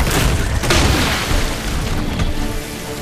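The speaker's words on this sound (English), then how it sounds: "I'll just keep firing at him with this for right now" Gunfire in Resident Evil 2 booms repeatedly over a continuous dense low roar, loud and close, with several heavy impacts blending into a rumbling wash.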